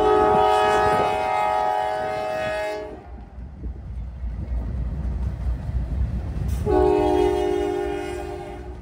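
A freight train led by a Dash 9 locomotive sounds its horn in two long, loud blasts, with the rumble and clatter of the passing train filling the gap between them.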